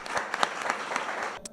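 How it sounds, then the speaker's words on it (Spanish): Applause from the audience at a book launch, a steady patter of many hands clapping for a second and a half before it thins out. "un fuerte aplauso para vosotros"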